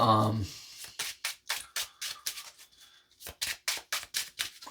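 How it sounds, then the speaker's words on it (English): A deck of trading cards for a dinosaur-themed game is riffled and shuffled in quick, regular bursts of crisp flutters with brief pauses between, close by, following a short spoken bit at the start. "I'm just going to shuffle real quick."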